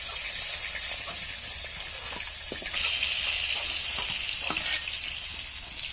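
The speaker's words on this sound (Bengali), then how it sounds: "হয়ে গিয়েছে দেখুন আমাদের মাছ ভাজা" Fish frying in oil in a pan for a Bengali shukto with green banana and papaya, a steady close bright sizzle and hiss throughout with occasional crackles and a brief swell partway through, no voices.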